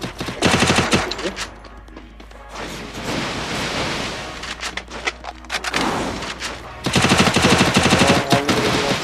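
Rapid automatic gunfire from a multiplayer shooter video game, with headshot kills, crackles in dense bursts, loud and close, with a busier mixed stretch in the middle before another sustained volley at the end.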